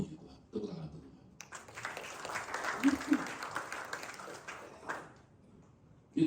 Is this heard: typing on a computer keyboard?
no